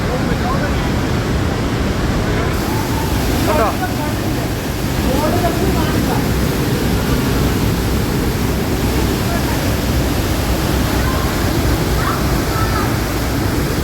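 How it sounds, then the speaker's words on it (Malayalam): Trümmelbach Falls in Lauterbrunnen roars steadily as water plunges and swirls inside the mountain, a dense, loud, unbroken rush filling the space while a person talks briefly over it. "അവിടുന്ന് വെള്ളം മേളിൽ നിന്ന് ചാടിയിട്ട് താഴോട്ട് വന്ന് ഇങ്ങനെ കറങ്ങിയടിച്ച് പോവാ"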